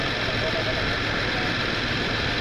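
Bajaj Rouser 135 motorcycle engine running on a Nasugbu Loop ride toward Tagaytay, a steady, even drone held under wind rush with no clear revs or shifts, loud and continuous throughout.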